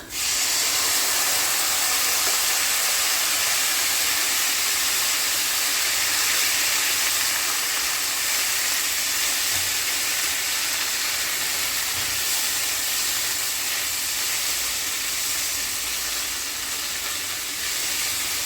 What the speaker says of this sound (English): Now I'm going to go in with my wine.